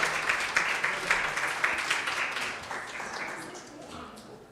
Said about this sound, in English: A big round of applause for all the presenters.